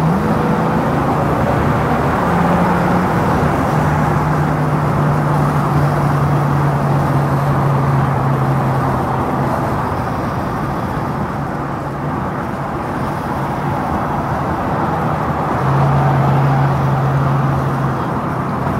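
A 1937 Ford street rod custom car cruises at about 56 mph, giving a steady, loud engine and road drone from inside the car with low tonal hums throughout and no voices.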